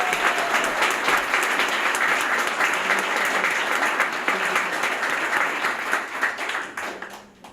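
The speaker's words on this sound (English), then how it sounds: "Another round of applause for our recipients tonight." An audience at a high school alumni awards ceremony gives sustained applause for the award recipients, a dense wash of clapping that holds steady and then tapers off near the end.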